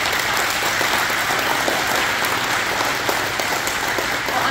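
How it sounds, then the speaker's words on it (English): Crowd applause at a county Breakfast on the Farm introduction for the host family, loud, dense and continuous clapping from many people, unbroken by speech. "please, a round of applause"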